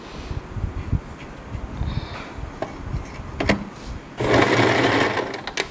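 A sewing machine stitches wig wefts onto a wig cap in quick bursts of whirring, close and fairly loud, with one longer steady run near the end.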